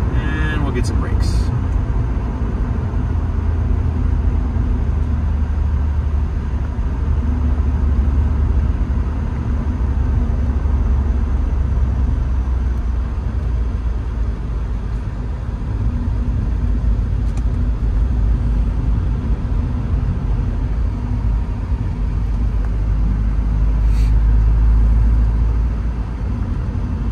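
A 1989 Porsche 944 S2 with a five-speed gearbox cruises at highway speed around 85 mph through Detroit-area traffic, its engine and road noise forming a steady, low, rumbling drone heard from inside the cabin.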